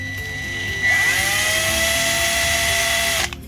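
A power drill fitted with a 105-degree right-angle adapter spins up with a sharp rising whine, holds a steady high-pitched buzz for about two seconds, then cuts off abruptly.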